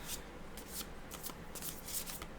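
A huge tarot-style deck with many cards is shuffled by hand, giving quick repeated riffling bursts and soft slides in a close, quiet room, with no talking.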